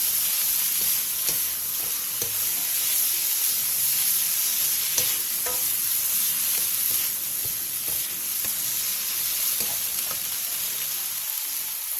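Chopped chives and imitation crab sticks stir-fry in a pan, a close, constant sizzle broken by frequent scraping and tossing clicks as the mixture is moved around; no one speaks.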